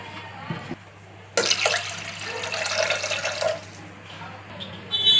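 Water poured into a vessel of washed dal, about one and a half tumblers' worth, making a steady splashing stream for a few seconds amid kitchen sounds, with brief gaps and a faint voice underneath.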